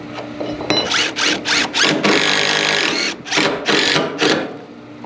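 A self-tapping screw driven by a power drill into metal during trailer gooseneck fabrication, whirring in a series of short loud bursts with a longer strained stretch as it cuts its threads, then easing off.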